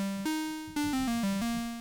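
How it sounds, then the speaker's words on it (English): A Nintendo NES pulse-wave channel plays a short melody of buzzy, hollow square-wave notes stepping up and down in pitch, loud and clean with no other sound. "That's a pulse wave."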